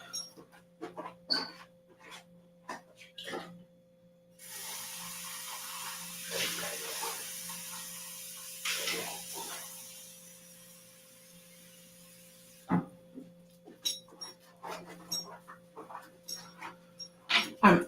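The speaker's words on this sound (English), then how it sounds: "Probably hear my dog running around." A dog moves around a motel room, its light scattered paw clicks and rustles near and fairly quiet, while a tap runs water into a container for several seconds in the middle.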